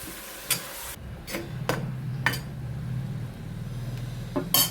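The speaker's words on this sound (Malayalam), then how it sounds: "ഇനി നമുക്ക് നന്നായിട്ട് ഇളക്കി എടുക്കാം" Masala-coated mango gets stirred in a pan, sharp spoon taps and scrapes landing irregularly over a low sizzling hum, close and moderate in level.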